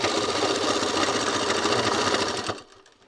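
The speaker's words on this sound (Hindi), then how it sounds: "खींचते मशीन में जब सिलाई मारते" Sewing machine stitching a thin-cloth petticoat, running in a fast steady whir loud and close for about two and a half seconds before stopping abruptly.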